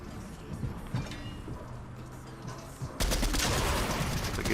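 Gunfire in a Fortnite match pounds at a build, a dense rapid rattle of shots that starts muffled and swells abruptly into a loud, sustained barrage halfway through.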